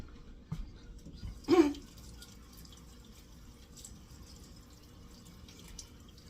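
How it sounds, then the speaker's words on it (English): A utensil is rinsed under a running kitchen tap while making a cranberry raspberry pretzel salad, with a short burst of splashing water early on, then a quiet room tone with faint drips. "I'm going to rinse this off"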